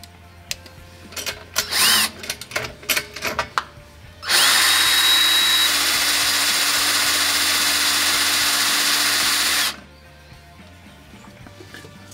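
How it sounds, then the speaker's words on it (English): A power drill whirs loudly and steadily for several seconds after some scattered clatter and knocks, then stops abruptly. "try to line my drill up here and give it a little support."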